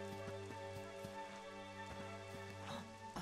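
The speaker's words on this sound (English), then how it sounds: "It would have to go and start raining, wouldn't it?" Rain falling in the video game Dragon Quest XI S, a steady hiss of pattering drops under sustained musical tones and scattered light ticks, even and continuous throughout without speech.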